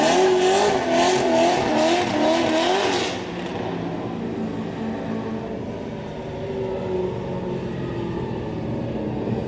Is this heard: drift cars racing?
yes